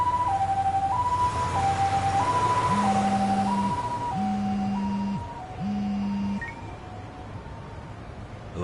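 An ambulance siren from the video game Lost Judgment wails in a repeating two-tone hi-lo pattern, loud and steady, over rumbling traffic, with a lower horn-like tone sounding in three bursts partway through.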